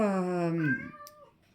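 A house cat gives one long, loud, close meow that slides downward and fades out, followed by faint room quiet.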